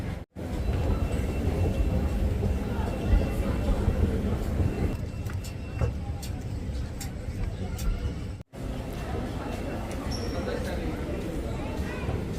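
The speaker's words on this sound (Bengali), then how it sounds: "সেন্ট্রাল লাইনের ট্রেন একটি চলে এসেছে" A London Underground Central line train rumbles in and slows at a platform, steady low roar with clattering, while people talk nearby.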